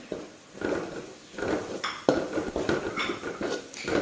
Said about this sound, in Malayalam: അത് നന്നായിട്ടൊന്ന് മിക്സ് ചെയ്ത് കൊടുക്കാം.